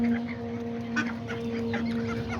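Hen from a small backyard flock of Aztec and Serama chickens clucking in short, scattered calls over a steady low hum, with a few louder clucks standing out nearby.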